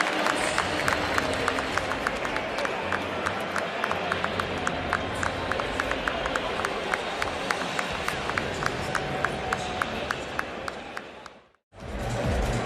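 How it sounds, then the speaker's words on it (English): A big crowd at Yankee Stadium applauds steadily during a World Series night game: sustained clapping and crowd roar with crisp individual claps throughout, cutting off abruptly near the end before a brief return. "Getting a great hand from the big crowd at Yankee Stadium."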